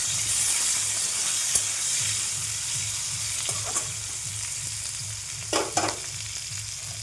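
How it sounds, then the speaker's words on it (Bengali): Sliced capsicum and thickly cut onion sizzle and hiss steadily in a hot oiled pan, with a constant loud frying crackle and a few clinks of stirring near the end. "ক্যাপসিকামটাও দিয়ে ভেজে নেব"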